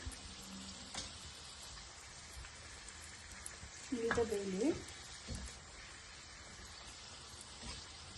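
Puris fry in hot oil with a steady, soft sizzling crackle, and a brief louder splash and bubbling comes midway as one is flipped.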